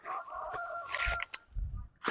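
Chicken clucks close by in a few short, rough bursts with brief pauses between them, fairly loud against a quiet background.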